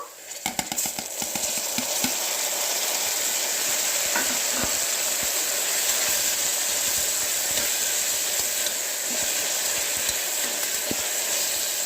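Tomato and green chili frying in a pan for dal tadka, a continuous close sizzle and hiss with occasional stirring clicks and no talk.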